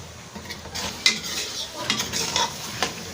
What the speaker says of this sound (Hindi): अब हम इसको 2 से 3 मिनट भूनेंगे गोश्त का कलर चेंज होने तक